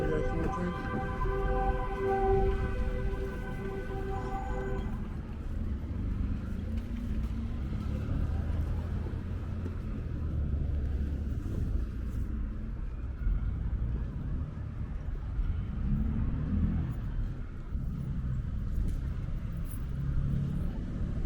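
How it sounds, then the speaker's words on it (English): A big truck rumbling past on Kings Highway in Brooklyn, a deep, sustained low rumble mixed with street traffic and wind noise, heard from the sidewalk. "That's a big truck."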